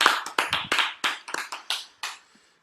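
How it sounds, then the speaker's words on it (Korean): A small audience at a Korean church lay-ministry class gives a short round of thanks, a handful of crisp, uneven claps close by that thin out and stop within about two seconds. "우리 하나님께 감사와 영광의 박수를 드리겠습니다."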